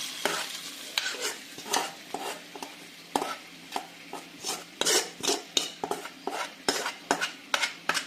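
Fried shallots tipped into an old handleless curry pan with the stove off, followed by continuous scraping and stirring with a utensil, metallic clinks, and a faint sizzle, close and busy.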